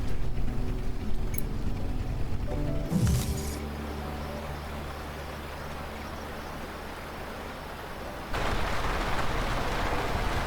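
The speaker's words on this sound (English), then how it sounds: "yet another rainy day" Rain falls in the farming and exploration game Lightyear Frontier as a steady broadband hiss, with a brief rumbling thud near the start. The downpour dips quieter for a while, then swells louder again toward the end.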